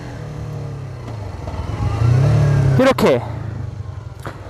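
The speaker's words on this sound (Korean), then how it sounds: "엑셀을 조금 당겨서 RPM을 올려주는 거죠." A Yamaha R3 motorcycle engine blips up in revs as the rider downshifts, a short rising snarl that swells and then drops back to idle, with someone talking over it.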